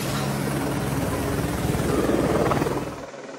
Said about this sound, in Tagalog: 2 helicopter ng pulisya ang namataang lumipad sa ibabaw ng compound